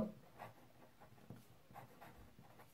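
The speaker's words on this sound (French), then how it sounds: "j'écris volontairement un peu plus gros" Faint marker strokes scratching across a classroom board in short, irregular bursts, soft and close with a quiet room hum beneath.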